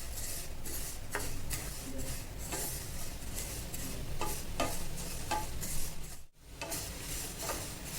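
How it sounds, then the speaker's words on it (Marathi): Vermicelli roasting in ghee in a pan, with a steady sizzle broken by repeated scraping stirs of a spoon against the pan, close and continuous, with one brief drop near the end. "आता त्यामध्ये मी शेवया घालून घेते आणि छान भाजून घेऊया"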